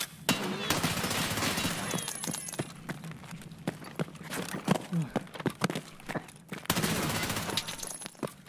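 Gunfire in the shooter game Escape from Tarkov, with rapid bursts of automatic shots cracking close and loud, a brief pause mid-fight and then more sustained firing, while someone talks over it.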